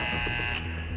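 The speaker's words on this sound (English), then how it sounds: "The buzzer." Basketball game buzzer in a gym, a single loud harsh electronic tone held for about half a second before cutting off, leaving a brief reverberant tail.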